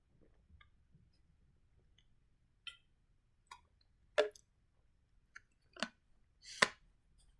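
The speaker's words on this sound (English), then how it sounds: "I apologize for that loud audible gulp." A single loud throat gulp from a dry-mouthed speaker, standing out among faint mouth clicks and small smacks in an otherwise quiet room, with no talking.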